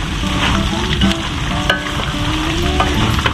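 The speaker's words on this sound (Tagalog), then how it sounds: "could you hear it? It's sizzling." Peanuts sizzling in hot oil while frying for adobo peanuts, a steady loud crackle with bursts of popping and the scrape of stirring, close up and without talk.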